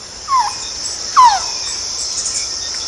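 Two clear descending whistled calls of a quetzal sound in a Central American cloud forest, spaced about a second apart over a steady high insect drone.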